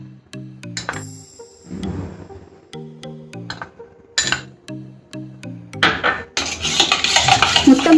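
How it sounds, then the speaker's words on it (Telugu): Cornflour being stirred into milk in a bowl, with a spoon clinking rhythmically against the sides in bursts, close and clear, plus a few louder clatters of dishes toward the end and no voices. "కార్న్ఫ్లోర్ తీసుకొని ఇది మిగిలిన పాలలో కలిపేసుకోవాలి."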